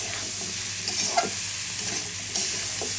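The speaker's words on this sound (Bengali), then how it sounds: "এখন আমি এটা একটু নেড়ে চেড়ে নিই" Malabar spinach stems frying with turmeric and salt in a pan, a continuous close sizzle with a few soft stirring scrapes and no talking.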